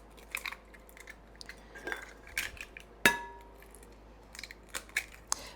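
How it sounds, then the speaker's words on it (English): Four eggs cracked one after another into a separate bowl: a series of light taps and shell clinks against the rim, with one sharper, louder crack partway through, close and fairly quiet, no talking. "we're going to crack up 4 eggs. And I'm putting them in a separate bowl."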